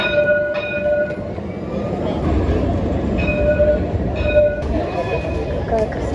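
A tram passes near a stop in Istanbul with a loud, steady rolling rumble and repeated high tonal squeals or signal tones, street noise and voices mixed in.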